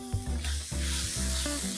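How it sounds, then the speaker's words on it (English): Masala of chili, turmeric, coriander, cumin and pepper powders with mint sautéing in a pan for a chicken dish, giving a steady close sizzle with stirring scrapes and a few tonal clinks over a low hum, no talking. "We're going to saute this masala till it's nice and dry."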